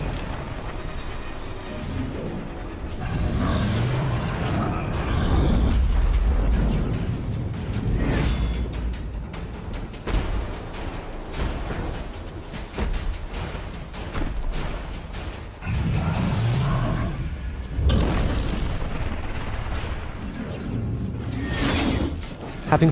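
Chaotic video game combat from Extinction as armor latches on a giant ogre's legs are smashed, with heavy booming impacts, whooshing swings, crunching breaks and rumbling debris in dense, loud bursts throughout.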